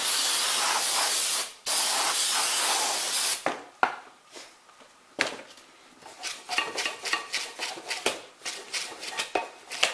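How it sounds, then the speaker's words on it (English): Brake cleaner sprays in a long, forceful hiss onto car brake parts, pauses, then gives way to a run of quick rapid bursts and scrubbing hits from a brush. "Use the brake cleaner and a brush."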